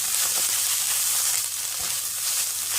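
Spice paste roasts in a little oil in a pan, producing a loud, continuous hissing sizzle with crackly texture that stays dense and steady from start to finish, with no voices.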